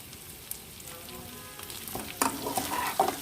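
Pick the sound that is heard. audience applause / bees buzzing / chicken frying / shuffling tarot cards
chicken frying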